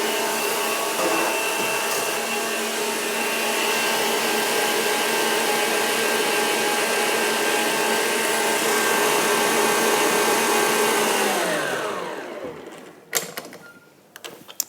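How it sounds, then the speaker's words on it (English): An electric mixer whisks egg whites for a lemon meringue pie with a steady, whirring motor drone. It runs for about twelve seconds, then winds down and stops, followed by a few clinks and knocks. "when you're whisking egg whites"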